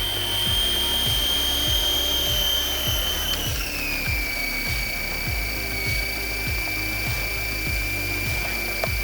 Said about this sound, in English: That's a fun little helicopter.